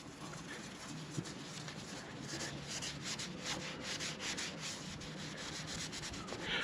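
Scratch remover rubbed by hand across a scuffed car bumper in vertical strokes, a steady close scrubbing hiss that continues evenly throughout with no talk.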